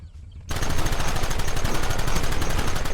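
A volley of gunfire in the western video game Red Dead Redemption bursts in after a brief hush, with rapid, dense, evenly paced shots blending into a loud continuous barrage.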